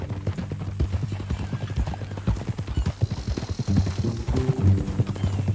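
Horse hooves in Red Dead Redemption 2 clip-clop in a steady walking rhythm, close by, with a low rumble underneath and a brief snort near the end.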